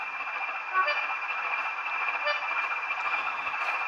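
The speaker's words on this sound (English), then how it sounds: "One of the locos has got a horn that sounds like this" Model locomotive horn from a Bachmann Class 20 DCC sound decoder, a steady tonal blast held for about four seconds at a constant pitch, thin and slightly buzzy as if through a small speaker.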